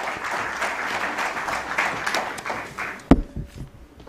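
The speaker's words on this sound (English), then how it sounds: "Let's have a huge round of applause for him," Warm, steady applause from an audience at a stock exchange listing ceremony for Indegene fills the first three seconds, then stops with a sharp knock and a few quieter taps.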